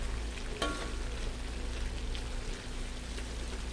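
Stir-frying yellow bamboo shoots in a pan gives a steady, even sizzle with a soft crackle throughout, plus one brief clink of a utensil near the start. No voices are heard.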